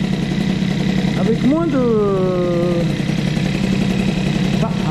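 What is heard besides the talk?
moped engine with Airsal CPI 70 kit idling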